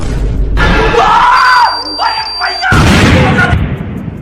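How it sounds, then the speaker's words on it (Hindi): A bomb explodes in a comedy cartoon dub with a loud, roaring blast at the opening and another burst of rumbling noise later, with screaming voices and a thin whistling tone in between. "बम फटने के बाद भी कुछ नहीं होता।"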